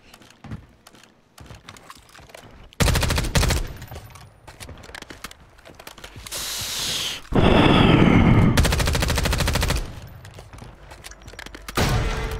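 Loud bursts of rapid SMG fire from a video game in Rebirth mode, several sustained automatic volleys separated by quieter stretches of clicking and movement noise.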